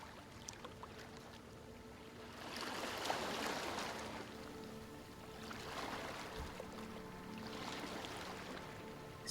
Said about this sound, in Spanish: Simplemente regresa al sonido de las olas.